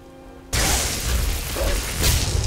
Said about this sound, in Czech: No, začal pršet